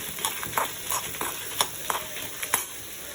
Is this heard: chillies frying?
yes